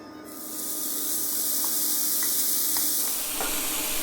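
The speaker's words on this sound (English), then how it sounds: "Listen to that sizzle." Loud, steady sizzling of bacon frying in a hot pan, a constant crackling hiss with a few sharper pops, no voices.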